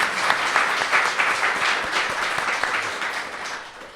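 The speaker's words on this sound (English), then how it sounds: "Can we please give Shaun Tan a big applause?" Audience applause breaks out for a guest at a children's writing and illustrating event, a dense, steady clatter of many hands sustained for about four seconds before easing slightly.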